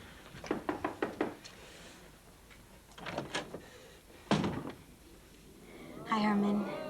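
A door is knocked on in a sitcom scene: a quick run of five sharp knocks, then a scrape and a thud later on, close and fairly loud, with a voice speaking at the end.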